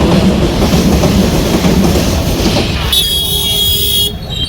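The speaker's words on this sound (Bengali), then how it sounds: "এদিকে ট্রেন এদিকে রেলওয়ে" A loud train rumbles past beside a cucumber and potato market in Tilakpur with a heavy, continuous roar, then the noise drops away, leaving a brief high whine and faint tone.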